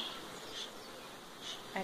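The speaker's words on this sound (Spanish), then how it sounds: "Hay abejitas." Bees swarm around beehives while a beekeeper works the colonies, their buzzing a soft, steady drone that swells and fades a little, fairly faint and without voices.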